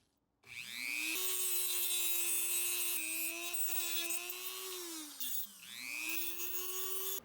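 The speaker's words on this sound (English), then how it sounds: "Now it's time to cut out these posts and grind out the area under this fender wheel here" A rotary tool cuts and grinds the plastic posts and fender area of a Hot Wheels Honda S2000 diecast body, a sustained high whine with pitch dips as the bit bites into the material, fairly quiet overall.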